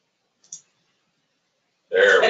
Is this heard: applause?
no